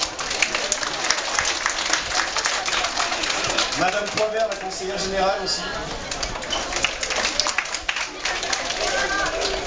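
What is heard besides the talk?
audience applause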